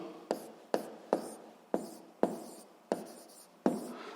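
Pen on paper writing out a physics solution: short, close scratching strokes in a steady rhythm, about eight quick marks, each fading quickly, with no talking.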